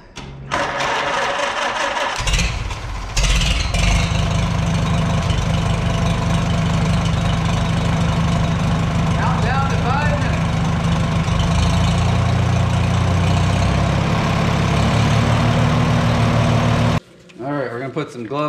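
A Farmall H tractor engine cranks and catches after an oil change, then runs with a loud, steady, knocking idle close by for about fifteen seconds before cutting off abruptly.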